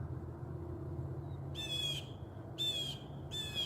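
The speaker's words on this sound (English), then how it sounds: "there's a blue jay. Some blue jays flying around." Blue jays give three harsh, raspy calls outdoors on a sunny day, each a short burst standing clear above a low, steady background hum.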